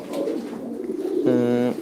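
A fancy pigeon at a pigeon farm gives a single short, close cooing call that swells and then stops abruptly.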